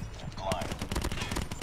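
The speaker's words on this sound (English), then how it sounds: "The fire is terrible on this gun." Rapid gunfire from a weapon in the Call of Duty Mobile shooter game, a steady stream of loud, quick shots crackling through the whole stretch with a player's voice talking over them.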